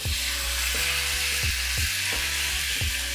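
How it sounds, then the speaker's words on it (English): Steak searing in a thin coat of beef tallow in a hot pan, a steady loud sizzle with a low hum underneath and periodic repeating bursts throughout. "I'm gonna sear this right in there"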